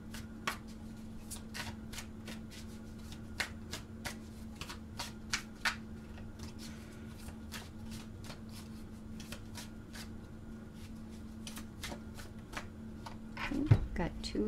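Tarot cards are shuffled by hand in a steady series of crisp riffling flicks over a low constant hum, with a soft thump near the end.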